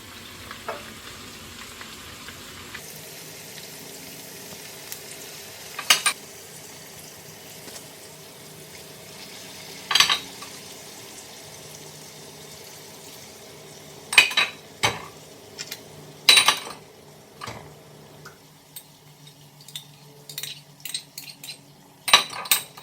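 A sauce of chile sauce, soy sauce, vinegar and orange juice stirred in a pan, a soft continuous sizzle with a low hum, broken by occasional sharp clinks of a utensil against cookware.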